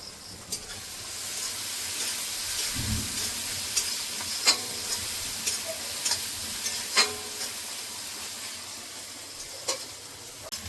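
Onions sizzling steadily in a pan for a Bengali parwal beresta dish, a continuous close frying hiss broken by occasional scrapes and clicks of stirring, with no voices.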